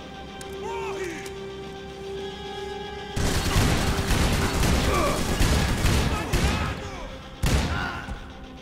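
Dense bursts of gunfire in the video game Max Payne 3, erupting loud and close after a quieter opening and crackling in rapid volleys mixed with crashes and game music.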